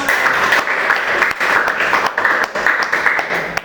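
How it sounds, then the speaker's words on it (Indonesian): Classroom students applauding together, a lively burst of many hands clapping with uneven surges, close and fairly loud, with slight voices underneath. "Tepuk tangan dong."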